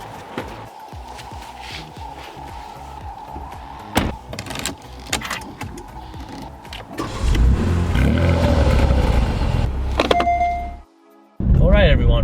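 A Porsche Cayenne GTS twin-turbo V8 SUV sits with quiet mechanical clicks and a door thud before the engine swells into a loud, deep rumble, cuts briefly, then returns, with someone talking in the car.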